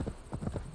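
Horse hooves clip-clop in a quick, steady rhythm in Assassin's Creed Valhalla on PS5, a short burst of close footfalls.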